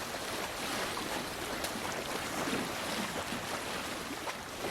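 A steady wash of water and wind noise from boats moving on a river in the video game Assassin's Creed Valhalla, constant and fairly loud with no voices.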